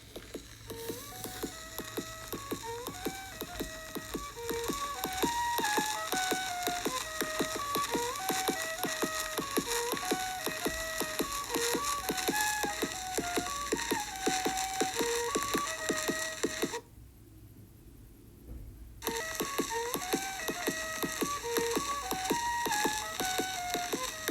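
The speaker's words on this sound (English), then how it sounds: "Here's the sound of the Dixon experimental sound." Crackly, hiss-laden early wax cylinder recording from the Dickson experimental sound film of tinny, wavering music that runs steadily, drops out briefly near the end, then resumes.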